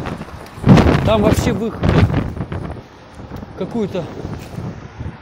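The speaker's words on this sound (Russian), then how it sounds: "попутный ветер настолько сильный, что даже педали не крутил, меня так дует, сдувает" Strong wind buffets the microphone in heavy rumbling gusts while a man riding a bicycle talks over it.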